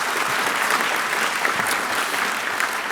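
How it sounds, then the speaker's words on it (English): A room of lunch guests at a state budget event claps for a committee, a dense, even burst of applause with no voices over it. "I think a big round of applause for that committee that's going to be set up"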